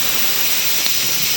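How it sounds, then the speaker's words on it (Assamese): A pot of chickpeas boils with a loud, steady steam hiss that runs unbroken throughout, with no voices. "সো এতিয়া বুটটো সিজাই আছোঁ"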